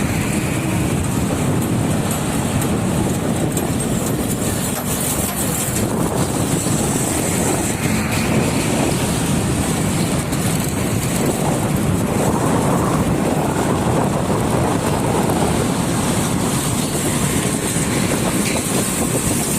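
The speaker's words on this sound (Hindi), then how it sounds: "ये सामने से ट्रेन गुजर रही है" A train passing along I.J.P Road in Islamabad, a loud continuous rumble and roar mixed with heavy wind buffeting on the microphone throughout.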